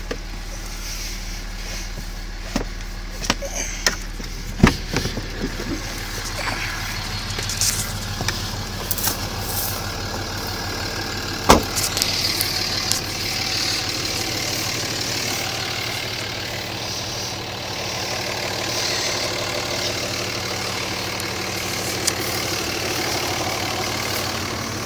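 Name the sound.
idling engine of a big new 3500 pickup truck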